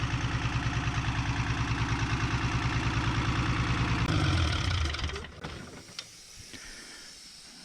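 A 1975 Chevy diesel truck engine idles with a fast, steady rhythmic knock and hiss, then the pulsing stops abruptly near the end as it shuts down, leaving quieter mechanical sounds.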